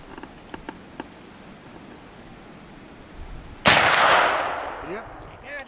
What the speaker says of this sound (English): Competitor shooting the buffalo, 75, 80 yards. 50 cal.